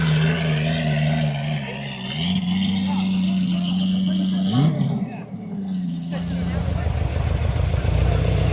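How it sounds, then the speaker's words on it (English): A Ferrari pulls away from a cars and coffee meet, its engine holding a steady droning note and then revving up in a rising roar as it leaves, loud and fairly close, with voices from the crowd underneath. "Ferrari taking off here."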